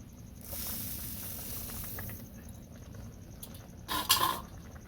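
Sugared rice pudding (payesh) is stirred in a pot, giving a soft, continuous scraping hiss, followed near the end by a louder clatter of the spoon against the metal.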